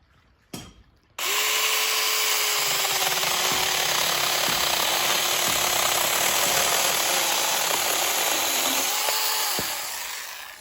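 A cordless MirSON MS-0123 24 V mini chainsaw starts after a brief click and then runs loud and steady, whining at a high pitch while cutting through a dry pear branch about 5-7 cm thick. The engine note rises slightly during the cut, then it winds down at the end.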